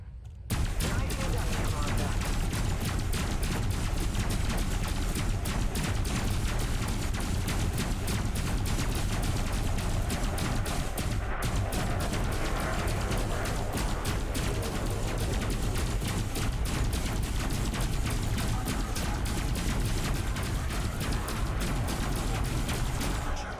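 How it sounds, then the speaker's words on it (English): Spaceship turrets in Elite Dangerous fire in rapid, sustained volleys, a loud continuous rattle of shots running almost unbroken across the whole stretch of combat. "my turrets here are hitting the power plant"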